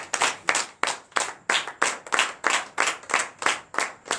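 Church congregation clapping in acclamation during a night service of deliverance and prophecy in Benin, about a dozen sharp, evenly spaced rhythmic claps in unison, moderately close with no talk.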